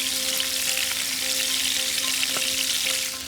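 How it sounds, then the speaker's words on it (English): Prawns fry in a pan with calamari, parsley and garlic, giving a steady, bright sizzle close up that continues throughout with faint tonal hums beneath. "And get those prawns frying off."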